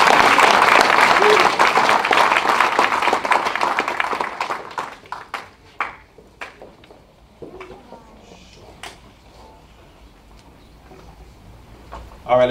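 An audience at an evening community meeting gives a dense, loud round of applause that thins into scattered individual claps and then fades toward quiet.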